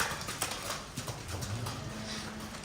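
A cow with a large hoof ulcer, one hoof fitted with a shoe, walks past on a hard floor, her hooves giving a few soft, uneven clops close by over low barn background noise.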